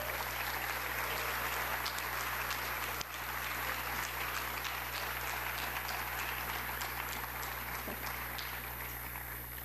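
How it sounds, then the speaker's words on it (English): Sustained audience applause at a school awards night, a steady dense wash of clapping with a constant low hum underneath, filling the whole stretch without a break. "Please join me in a round of applause for ECOS."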